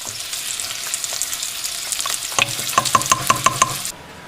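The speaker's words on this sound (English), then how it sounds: "Let's mix it up. Our stew's looking pretty nice. It's simmering." Crocodile stew simmering in a pot while it is being stirred, with a steady bubbling sizzle and a run of close, rhythmic scraping knocks from the utensil toward the end before it cuts off.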